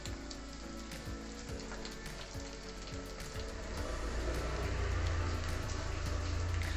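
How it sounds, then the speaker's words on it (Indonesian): Egg-dipped chicken sempol fries in hot oil with a continuous close sizzle and crackle that grows a little louder partway through. "Oke, kita goreng lagi."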